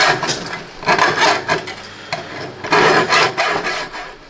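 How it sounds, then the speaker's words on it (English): A hacksaw rasps through thin sheet metal on a homemade heater grill, quick irregular back-and-forth strokes loud and close, pausing briefly before a final burst of cutting. "So we'll get out the trusty old hacksaw and get that cut out."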